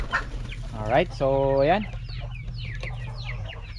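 Free-range chickens cluck and squawk outdoors, a few drawn-out rising calls standing out over a steady low background hum, with someone talking briefly at the start.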